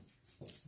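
A rat terrier whimpers quietly nearby, one short pleading whine that swells and fades in under a second, with soft breathy noise around it.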